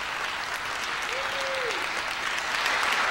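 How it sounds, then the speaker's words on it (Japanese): Dense, steady applause and cheering from a concert audience after a performance of traditional Japanese music, loud and sustained throughout, with a brief faint tone rising above the clapping. "演奏終了後、大歓声が沸き起こりました。"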